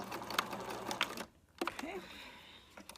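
A sewing machine runs in short bursts to lock a stitch while altering thrift store clothing, a close mechanical rattle broken by a brief pause, with a voice speaking over it.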